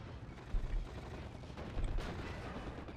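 Artillery shells landing in the WWII strategy game Steel Division 44, heard as low, rumbling thuds and crackling impacts at a distance, with a couple of heavier booms over continuous battle noise.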